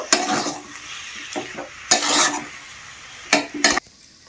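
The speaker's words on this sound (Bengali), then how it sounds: "এরপর আমি সব কিছু কিন্তু ভালো করে আবারও মিশিয়ে নেব" A vegetable chop mixture with roasted ground spices is stirred in a pan, the spatula scraping in short bursts separated by quieter gaps, with a faint sizzle underneath.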